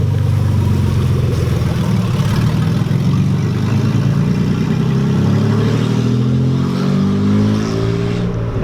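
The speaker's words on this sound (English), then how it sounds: "Don't rev it though. It's too loud." A loud, rumbling E30 car engine with open headers idles and revs close by, its deep throaty roar rising and falling with no talking.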